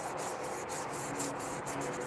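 Hand sanding with 1,000 grit sandpaper, a close, steady rasping rub in quick back-and-forth strokes repeating evenly across the clip, with no voices.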